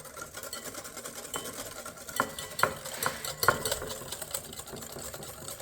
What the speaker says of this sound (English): now we're going to incorporate slowly the flour in it